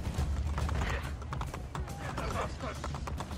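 Horse hooves gallop at a steady pace in the Assassin's Creed Brotherhood video game, continuous and fairly loud, mixed with game ambience and low rumble throughout.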